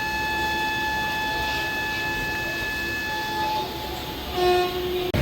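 Passenger train, the 16053 Tirupati Express, pulling into Puttur railway station: a steady rumbling carriage roar with long sustained tonal whines, easing off, then a brief louder squeal or hoot near the end.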